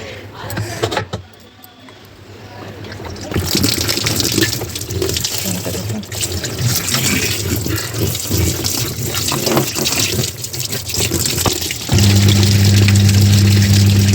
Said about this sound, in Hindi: मशीन का पानी निकाल दिया है मैंने।